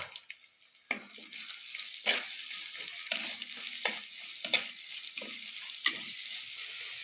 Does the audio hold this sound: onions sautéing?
yes